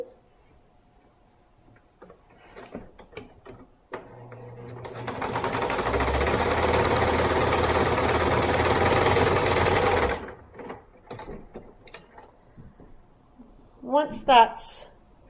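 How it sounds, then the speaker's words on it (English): A sewing machine stitching across a seam while assembling a stuffed animal body, a steady whirring run of about six seconds, close and fairly loud, with quiet handling noises before and after. "pin that in place and then sew across that seam"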